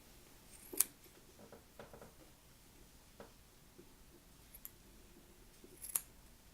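Scissors snip away the excess edges of unbleached Kendo cotton wicking on a Wismec Indestructible RDA dual-coil build: a few quiet, sharp, isolated cuts spaced apart against a soft background hiss.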